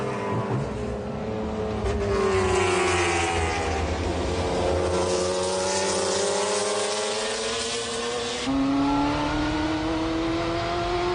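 McLaren race cars at the 1995 24 Hours of Le Mans, engines wailing loudly at high revs, pitch rising through the gears as the cars pass, continuous and close with no voices.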